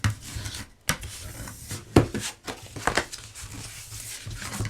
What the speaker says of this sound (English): I'm just going to fold and burnish all of my scores